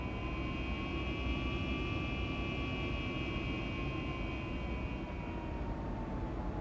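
Twin jet engines of a simulated MD-80 airliner in X-Plane 11 spooling up, a steady faint roar with high whining tones that slowly shift in pitch, no talk.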